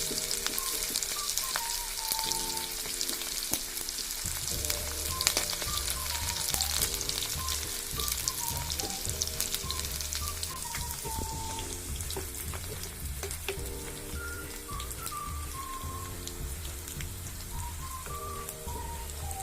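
Onions hit hot oil in a pan for a mutton curry, giving a steady, close sizzle that runs throughout under loud background music with a repeating melody.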